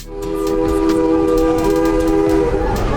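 A scenic train out of Durango sounds a long, loud, sustained horn with steady harmonic tones over a rumbling rail background, close and unbroken.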